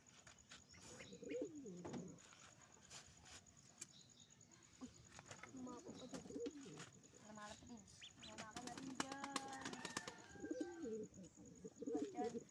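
Pigeons coo repeatedly at close range, mixed with chirps and small rustles, while a person talks now and then.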